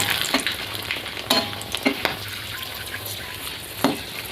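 Whole spices, bay leaves and dried red chillies sizzle steadily in hot oil alongside sugar browning, giving a continuous close crackle with occasional scrapes and taps of a stirring spoon.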